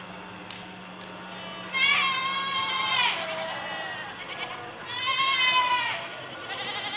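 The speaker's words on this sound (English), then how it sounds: "I will fetch up your goats, Audrey." Goats bleat in two long, loud, wavering cries a few seconds apart, standing out over a low steady background hum.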